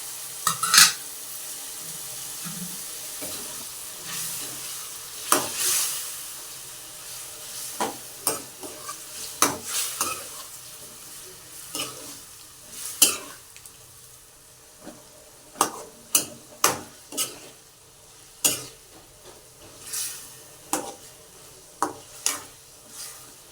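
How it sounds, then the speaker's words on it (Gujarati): Potatoes frying in a pan for a Gujarati vegetable curry, stirred with a utensil in repeated scrapes and clinks over a steady sizzle, close and fairly loud, with no talk. "હવે નાખશું આપણે બટેકા"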